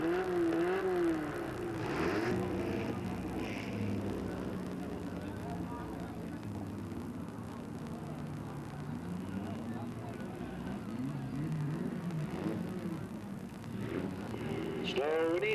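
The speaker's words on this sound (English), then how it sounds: "Heat number 1, mini stock." Mini stock race cars rumble around Delta Speedway during a slow heat race lap, with engines droning and rising steadily under continuous announcer talk.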